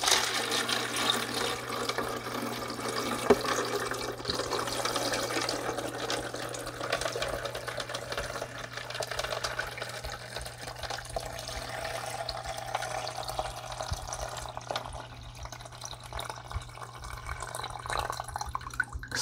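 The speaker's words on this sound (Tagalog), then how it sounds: "Buhos na natin itong tubig." Water poured from a container onto a Realme 14 Pro Plus phone, a continuous close splashing and trickling wash that runs steadily for the whole stretch, with no talking.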